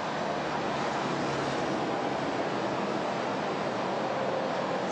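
A man blowing hard into a police breathalyzer during a roadside check, a continuous loud breathy rush of air held steadily close to the microphone, no talk over it.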